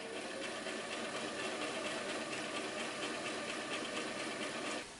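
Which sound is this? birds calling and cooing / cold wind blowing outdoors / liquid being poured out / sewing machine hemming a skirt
sewing machine hemming a skirt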